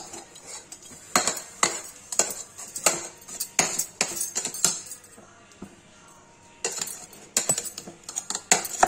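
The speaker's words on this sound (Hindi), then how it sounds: "देखिएगा ये मटर भून रहा है" Peas frying in a pan while a utensil stirs them, giving repeated sharp metallic scrapes and clinks in irregular bursts, a pause midway, then more stirring, close and clear.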